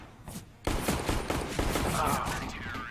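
Gunfire in a Counter-Strike: Global Offensive esports match, with rapid bursts of shots crackling after a brief pause, loud and dense, layered under a caster's voice.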